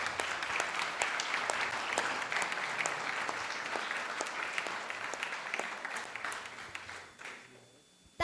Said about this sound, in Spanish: Un aplauso para Andrea, por favor